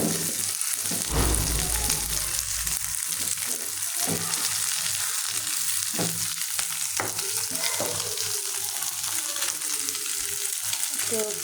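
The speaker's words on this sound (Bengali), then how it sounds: "পেঁয়াজ লাল লাল হয়ে ভেজে উঠেছে, আমরা এখন রুই মাছটা দিয়ে দেব।" Rohu fish frying in hot oil with browned onions, a constant dense sizzle and crackle close up, with occasional stirring clinks and scrapes over the bubbling.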